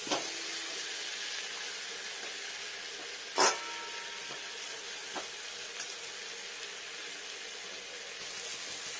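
Rohu fish fries with onion in a pan as a steady, gentle sizzle and hiss, broken by a sharp clatter of stirring or a utensil knock and a few softer taps.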